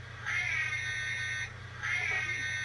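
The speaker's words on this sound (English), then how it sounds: "the distinctive Ghostbuster sound there" An electronic siren-like wail from a PLAYMOBIL Ghostbusters Ecto-1A toy car rises in two short bursts over a faint buzzing hum, thin and tinny at close range.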